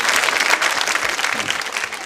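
An audience at a college quiz show on Holi, held at a girls' B.Ed college, bursts into loud, sustained applause that fills the short stretch, with a dense crowd clatter throughout.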